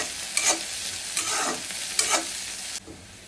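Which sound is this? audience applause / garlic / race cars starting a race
garlic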